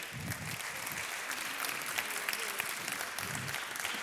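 An audience at an evening mentoring event applauds, steady clapping from a crowd filling the room throughout.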